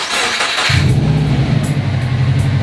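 A Subaru WRX engine catches and settles into a loud, steady idle close by, with a low throbbing rumble after a brief starter whirr.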